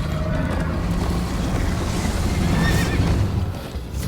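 Horse neighing while ridden in Minecraft Story Mode, a shrill whinny rising over rushing wind and hoof noise, fairly close.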